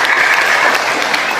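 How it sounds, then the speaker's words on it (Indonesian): Applause from an audience at a talk event, a dense steady wash of many hands clapping, loud and continuous through the whole stretch with no voices over it. "Tepuk tangan."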